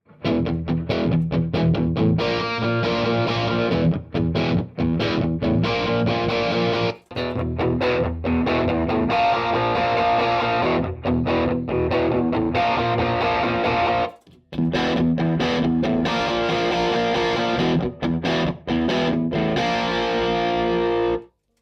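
Heavily distorted electric guitar chugs through thick overdriven chords, loud and continuous, with brief cut-offs between phrases.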